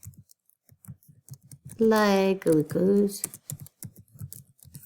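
Keys clatter on a computer keyboard in quick, light bursts of clicks, continuing before, between and after a stretch of close spoken words.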